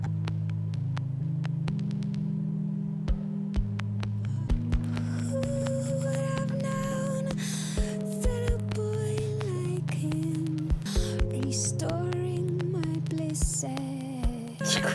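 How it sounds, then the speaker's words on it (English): A song plays steadily throughout, its hushed instrumental carrying a crackly, static-like texture resembling TV static or vinyl crackle beneath sustained tones and small melodic lines. "Sounds like TV static or like vinyl crackle as the instrumental."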